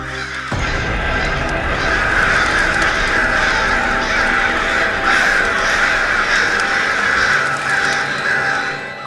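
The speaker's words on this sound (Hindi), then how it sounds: "कुछ दिनों से ये काले कौवे कुछ अजीब ही घूमने लगे।" Black crows caw loudly and continuously in a dense, overlapping chorus of harsh calls that sets in abruptly and lasts throughout, as in a flock gathered close by.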